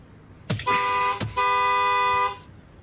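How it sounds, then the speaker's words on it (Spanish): A car horn blares in two long, loud, steady honks, the first brief and the second held, with a short gap between them. "Está tocando el claxon."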